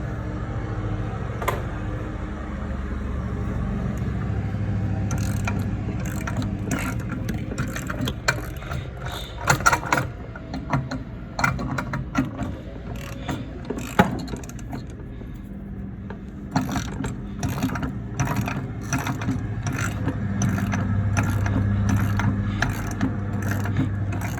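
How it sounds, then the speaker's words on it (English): A hand ratchet tightens the caging bolt on a truck air brake can, clicking in quick, steady runs of sharp metallic ticks with short pauses between strokes, close up against a low background hum. "we see as I continue to tighten that bolt"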